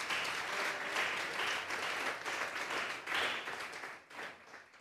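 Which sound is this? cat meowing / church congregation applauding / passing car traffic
church congregation applauding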